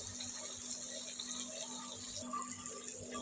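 Water is poured into a pot of chicken cooking on the stove, a steady continuous splashing and hissing flow that stays even throughout, fairly close.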